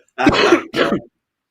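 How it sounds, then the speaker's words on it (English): A sharp, close cough in two quick bursts, the second slightly shorter, followed by silence; more of a throat-clearing hack than a deep chesty cough. "I started coughing"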